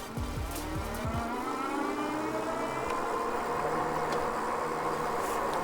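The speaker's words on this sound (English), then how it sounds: "I'm gonna put the throttle down and see what the top speed will be in this mode and how responsive it is" Whining electric hub motor of a Troxus Explorer fat tire eBike at full throttle, pitch rising steadily as it accelerates toward a limited 20 mph top speed, with steady wind and tire rumble underneath.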